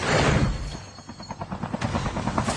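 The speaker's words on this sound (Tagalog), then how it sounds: "Helicopter." A video game helicopter chops loudly and close, its rotor pulsing in a fast, steady thumping rhythm with no other sounds.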